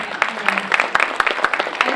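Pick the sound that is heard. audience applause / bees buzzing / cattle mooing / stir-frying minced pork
audience applause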